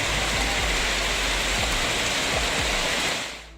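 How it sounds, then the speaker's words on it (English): Dense, loud hail hammers down on city streets in Sydney, Australia, in a continuous hissing roar with scattered sharp impacts, then cuts off abruptly at the end. "The streets of Sydney are being battered by intense hail."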